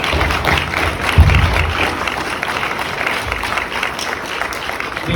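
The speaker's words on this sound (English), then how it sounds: "Let's give all the veterans in the audience a round of applause" An audience at a veterans charity talk applauds veterans standing in the crowd, a dense, steady wash of many hands clapping that stays loud for about five seconds with a slight swell near the start.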